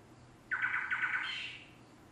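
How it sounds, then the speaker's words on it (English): A gonolec in a Rwandan papyrus swamp gives a duet call, a short burst of rapid, bright repeated whistled notes lasting about a second, fairly clear against a quiet background. "All gonolecs, like boo-boos, they sing it, they call in duets, so the male calls and the female often responds."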